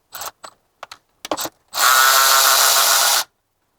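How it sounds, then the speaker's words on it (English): Ratchet loosening T30 bolts on a BMW E90 engine during crank seal guard work: a few quick separate clicks, then one long, loud, steady ratcheting run, close up. "two T30 bolts here and here. So loosen those."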